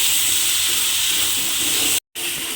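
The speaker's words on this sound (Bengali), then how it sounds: "মশলাটা আমি এর মধ্যে দিয়ে দিলাম। দিয়ে এবার খুব ভালোভাবে একটু প্রথমে কষিয়ে নিতে হবে।" Spice paste sautéing in a pan for a white potato curry (aloo dum) gives off a loud, steady hiss that cuts out briefly near the end, with no voices.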